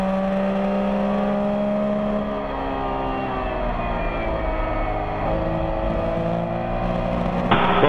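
A twin-turbocharged Porsche 935 race car engine drones steadily throughout, its harmonic tone gliding as revs shift during Group 5 racing, with a brief louder swell near the end.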